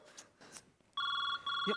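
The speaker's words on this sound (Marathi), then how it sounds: "मम्मीचा फोन आहे" A telephone rings with a bright, steady electronic tone that starts abruptly partway through, pauses briefly, then resumes, loud and close after faint background voices in a Marathi comedy sketch.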